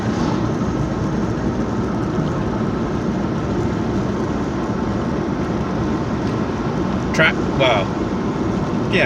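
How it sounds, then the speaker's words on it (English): A tractor engine rumbles steadily as it passes along a road, a continuous loud low drone filling the whole stretch with a few brief higher rattles near the end. "Tractor."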